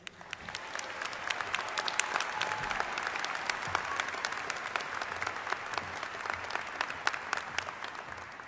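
Steady audience applause at a university graduation ceremony, even, sustained clapping filling the hall from start to finish without a pause, heard at moderate distance.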